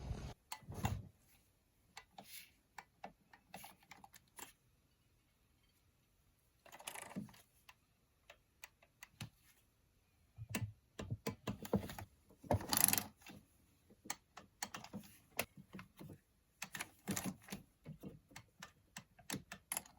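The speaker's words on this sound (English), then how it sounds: "I'm going to grab my torque wrench, set it as low as I can, and then I'm going to get these all snugged down." Torque wrench snugging down valve cover bolts on a Mitsubishi Montero, a series of quiet close metallic clicks and ratcheting ticks in short clusters separated by pauses.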